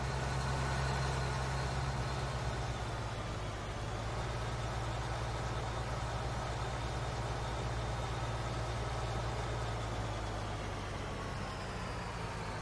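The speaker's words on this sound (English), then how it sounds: "Sometimes it kind of slows down like it's like in mud and the engine's working a little bit harder." A corn picker's engine in the Farming Simulator 19 video game drones steadily and continuously, with a low, heavy hum that dips slightly as it bogs down. No one speaks.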